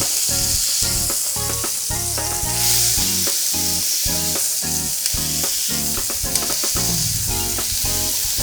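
Smashed burger patties sizzle and fry loudly and steadily on a Blackstone griddle, a dense continuous crackle with scraping and clatter from tools.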